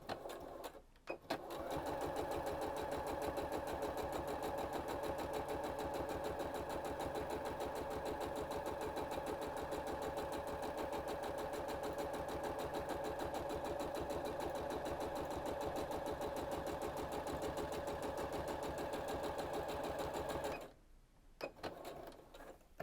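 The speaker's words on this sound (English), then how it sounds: "You're really just sewing over one layer." Sewing machine stitching over a single layer of fabric on a key fob, a steady rapid mechanical whir running for about twenty seconds and stopping abruptly, close and clear.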